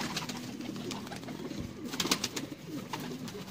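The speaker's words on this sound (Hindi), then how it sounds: "ये हमारे पास शेखों वाला कबूतर है दोस्तों, प्योरिटी में सियालकोटी" A Sialkoti pigeon coos in soft, repeated low calls that roll on steadily at close range, with no voices over them.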